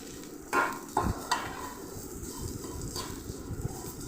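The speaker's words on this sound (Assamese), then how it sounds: "আৰু লাৰি লাৰি ভাজি থাকিব লগত নহ'লে তলত লাগি যাব পাৰে" Flattened rice (chira) fries in a pan over a medium gas flame with a soft, dry crackle, and a few quick scraping stirs of a spatula are heard up close. Nobody talks.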